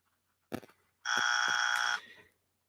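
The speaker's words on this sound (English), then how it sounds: "that's this buzzer" A single harsh electronic buzzer blares for about a second, a loud steady rasping tone, preceded by a brief clatter and ending in a short fade, alone and close.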